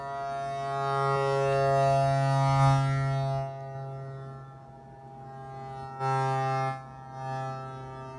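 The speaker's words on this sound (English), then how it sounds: "It's a siren." A synthesizer siren from an Intellijel Quadrax modular patch: a loud, sustained tonal wail rich in harmonics, dropping in level partway through and then swelling back in a brief second burst, with no voices.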